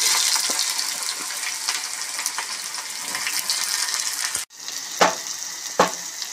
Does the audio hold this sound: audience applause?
no